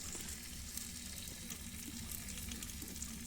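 Village chicken sizzles and crackles softly in a hot pan on a wood stove, a quiet, steady frying hiss with occasional small pops.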